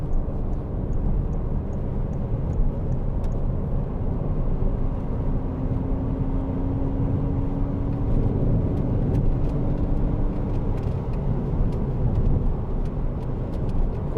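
Steady engine drone inside a 2012 Citroen DS3 1.6 e-HDi diesel hatchback as it accelerates, with continuous low road and engine rumble and a faint rising tone, heard from the cabin without talk.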